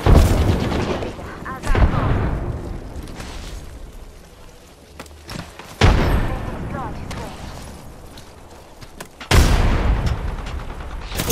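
Gunfire in the video game Apex Legends: three heavy bursts of shots several seconds apart, each hitting loud and decaying into a rumbling tail, with quieter game sounds filling the gaps between.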